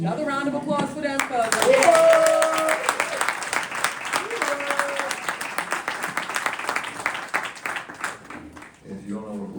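Audience applause at a live Earn Your Leisure event in Greenburgh, a dense crackle of clapping that swells early and holds for most of the stretch while a voice talks over it, dropping off near the end.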